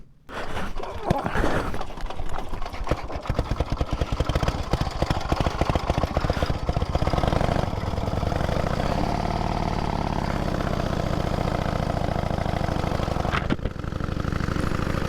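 Pre-1919 vintage motorcycle engine running close by, with a rapid, rough single-cylinder-style popping that settles into a steady loud drone, and a voice speaking briefly over it.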